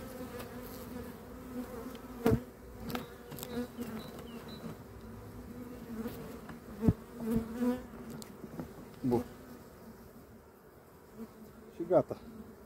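Honey bees on a hive frame hum in a steady, dense buzz close by, with a few sharper individual buzzes and faint handling knocks; the beekeeper is not talking during it.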